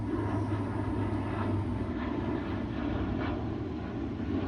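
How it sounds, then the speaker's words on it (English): An airplane passing overhead outdoors, a steady low rumbling drone that stays constant and moderately distant throughout, with no talk over it. "We have a plane going overhead."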